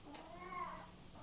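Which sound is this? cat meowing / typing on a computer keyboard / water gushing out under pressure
cat meowing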